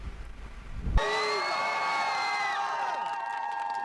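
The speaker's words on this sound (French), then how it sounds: "Des cris de joie, synonymes de libération." Crowd in Kyiv cheering and whooping in celebration after the liberation of Kherson, a loud sustained roar of joyful voices with high shouts and whistles, heard at a distance.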